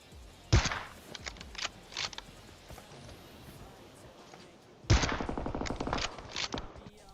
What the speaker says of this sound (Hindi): गोली चला रहा हूं और बहुत कम बर्बाद हो रही है गोली